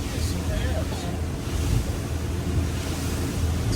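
Wind blowing steadily over open water around a sailing yacht, a continuous broadband rush with small gusts and wave wash underneath, fairly loud and close to the microphone.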